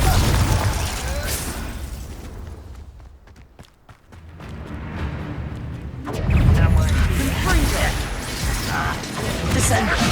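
Confringo blasting-curse explosions in Hogwarts Legacy sound as a dense, loud clatter of bursts and impacts. The noise thins into scattered sharp hits midway, then swells back into heavy continuous rumble.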